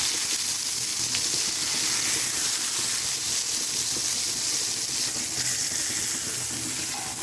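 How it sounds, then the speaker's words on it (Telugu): Chicken breast pieces fry in oil over a medium flame, giving a steady, close, loud sizzle that crackles without pause throughout, with no talking. "మీడియం ఫ్లేమ్లో బాగా కుక్ అయ్యేలా ఫ్రై చేసుకోవాలి."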